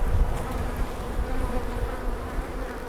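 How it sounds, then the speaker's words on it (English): A dense, steady drone of many agitated honeybees buzzing close by at a hive during an inspection, continuous, with no voices. "We're just gonna do a hive inspection, make sure they're healthy. Oh yeah, they are not happy."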